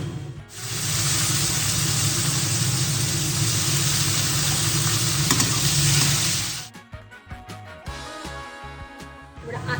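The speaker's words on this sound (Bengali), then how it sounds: "পেঁয়াজ কুচিটা এবার দিয়ে দিচ্ছি।" Chopped onion hits hot oil with cardamom and erupts into a loud, sustained sizzle for several seconds. The sizzle then drops away, leaving clattering stirring and scraping in the pan.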